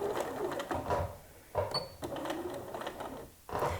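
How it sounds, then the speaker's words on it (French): A sewing machine runs a straight stitch at 3.5 length, topstitching a felled seam on jeans, with steady rhythmic needle clatter that pauses and restarts several times. "Et je commence ma piqûre."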